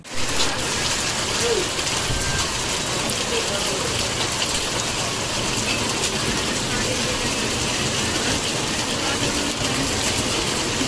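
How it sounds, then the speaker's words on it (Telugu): Dense, steady wash of heavy cyclone rainfall, loud and unbroken, hissing evenly across the whole stretch with no voices. "భారీ వర్షాలు కురుస్తున్న పరిస్థితి"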